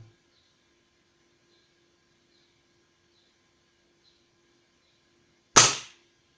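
A single close, loud shot from a Gamo Black Shadow air rifle, a sharp broadband crack that dies away within about half a second, heard near the end after near silence.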